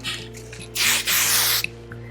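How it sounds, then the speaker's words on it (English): Kenya Volume Spray number 25 is sprayed into a high ponytail in two close, hissing bursts, one short and one longer, followed by a faint click, with nobody speaking. "I'm just going to spray it in my ponytail so that it stays really full all day."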